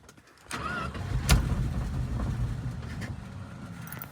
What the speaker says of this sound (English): I just want to let it putt like that, just to let that pump.